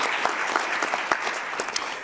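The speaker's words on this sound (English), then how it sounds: "let's give them a big round of applause" Steady applause from a crowd, dense clapping throughout with a few sharper claps standing out, no voices over it.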